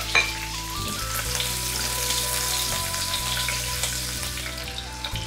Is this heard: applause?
no